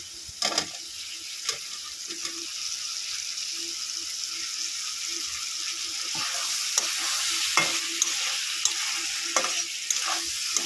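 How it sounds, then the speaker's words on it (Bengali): Potatoes are sautéed in oil in a pan for a thin rohu fish curry, giving a steady sizzle with repeated sharp clicks and scrapes as the spatula stirs them, and no talk. "একটু কষিয়ে নেব 5 মিনিট।"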